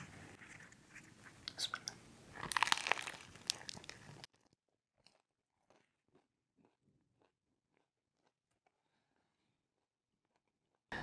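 Crunchy bites and chewing of dry, stiff bread from a Rifai hawawshi loaf, a meat-stuffed Egyptian sandwich, loud and close in the first four seconds, then only faint scattered mouth sounds.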